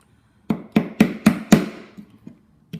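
A small hammer or tool taps a pin out of a Buick car key in five quick, sharp, close strikes, followed by a few lighter taps after a short pause.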